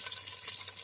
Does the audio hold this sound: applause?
no